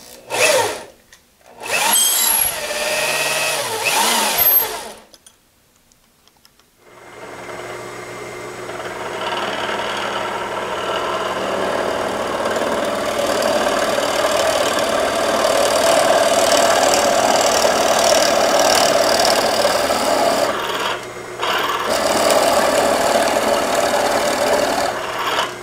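A 1917 Avey drill press starts with a few bursts, pauses, then runs steadily as it bores a hole, a loud continuous mechanical whir and grinding hum with a brief dip near the end.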